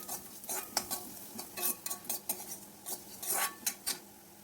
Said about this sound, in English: Add little oil and fry the coriander seeds only on low flame.